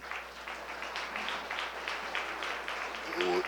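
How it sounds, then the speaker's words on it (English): An audience in a room applauds for a snow sculpting championship kick-off in Stillwater, Minnesota, a steady, dense patter of clapping that holds for several seconds and swells slightly at the end. "So give yourselves a round of applause"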